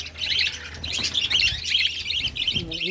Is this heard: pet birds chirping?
yes